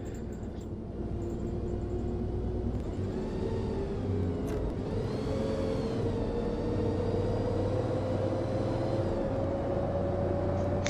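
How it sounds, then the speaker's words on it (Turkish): An Otokar Kent 290LF bus engine in the OMSI 2 simulator on a city ring route, a steady droning rumble with a slowly rising whine as it pulls away, heard alone. "Ama çıkan aracın sesi de bayağı fena gelmiş ha"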